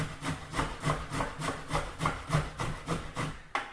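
Carrots are grated on a hand grater in a kitchen, a close rhythmic rasping of about a dozen even strokes, each a brisk scrape, ending with a light knock.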